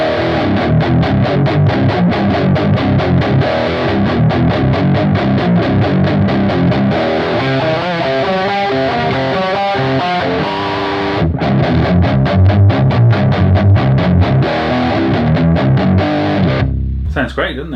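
A heavily overdriven electric guitar plays through a Spark amp with the drive turned up, loud and close with chugging palm-muted rhythms, sustained distorted chords and a brief cutoff near the end.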